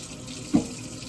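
Hands rinsed under a running kitchen tap while cooking, a steady hiss of flowing water with a brief splash as the hands pass under the stream.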